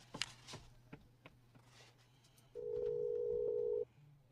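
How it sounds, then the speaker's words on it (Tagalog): A telephone dial tone rings out steadily for about a second while a call is being placed, preceded by faint clicks and handling noises in a quiet room. "Akong tawagan si Mirasol"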